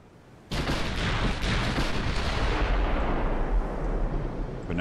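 Battleship main guns fire in the naval warfare game Ultimate Admiral: Dreadnoughts, with one sudden loud boom followed by a sustained rumbling roar of further salvos and their echoes.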